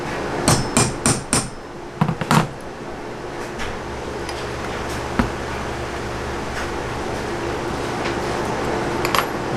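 A hammer taps a punch against a knife blank to mark a divot, giving a quick cluster of sharp metallic taps followed by a few scattered lighter knocks over a steady background hum.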